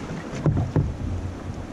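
Paddles strike the water as a canoe is driven hard across a lake, giving two distinct splashing pulls over steady wind and water noise. Nobody speaks.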